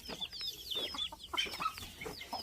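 Hens clucking close by in a farm setting, a run of short, quiet, irregular clucks and squawks from several birds over soft background noise.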